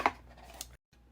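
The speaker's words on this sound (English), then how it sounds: "Let me shuffle it really good because you know it's new." A new oracle card deck being shuffled by hand, with brief papery riffles and flicks followed by a short silent pause and then faint rustling.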